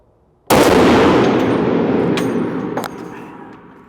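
A single loud sniper rifle gunshot fired at a range, with a sharp onset and a long booming decay that rings out over several seconds, a faint clank near the end.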